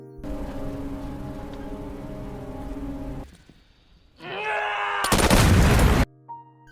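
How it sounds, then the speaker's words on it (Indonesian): Gunfire and an explosion in a war film scene set in Afghanistan, a steady droning background giving way to a rising roar and then a loud, dense blast that cuts off abruptly. "Brickman pun segera menarik pelatuknya. Bersamaan dengan itu, Dix melempar peledak untuk menciptakan kesan seolah-olah terjadi baku tembak"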